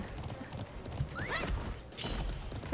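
A horse in the online racing game Alicia Online gallops with steady clip-clop hoofbeats, a high whinny cutting through midway, over a constant background of game sound.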